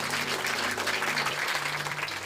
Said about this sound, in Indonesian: yang mau taat setia tepuk tangan yang meriah buat Tuhan